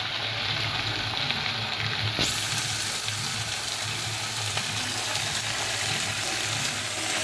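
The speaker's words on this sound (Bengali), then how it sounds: "ভালো করে তেলে একটু নাড়াচাড়া করে ভেজে নিচ্ছি" Malabar spinach stirred and fried in hot oil, a steady close sizzle filling the whole stretch with a low hum beneath it and no talk.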